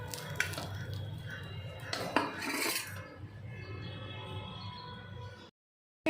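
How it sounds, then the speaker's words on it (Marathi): A cooked wheat-flour and tomato uttapam is lifted off a dosa griddle with a metal spatula, giving a few soft scrapes and clinks against the pan followed by quieter shuffling, fairly close and with no talking. "असे एक उत्तापे आपण काढून घेऊया."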